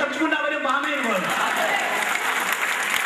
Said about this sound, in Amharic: አጨብጭቡና በደንብ አሜን በሉ